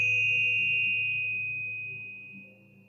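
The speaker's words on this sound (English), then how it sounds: "I also found these Tibetan bells" Tibetan bells struck once, a clear bright ring with a sustained pure tone that slowly decays, close and alone in a quiet room.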